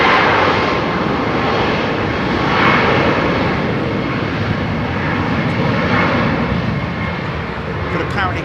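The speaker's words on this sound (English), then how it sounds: "the actual air that rushes past the engine causes a great amount of noise" A departing Qantas jet airliner's engines roar at London Heathrow Airport in a loud, steady broadband rush that holds throughout, with no pause.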